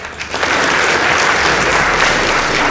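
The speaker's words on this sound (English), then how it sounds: "Please give them a round of applause." Studio audience applauding a school debate team on stage, a steady loud burst of clapping that begins after a brief quieter moment and carries on throughout.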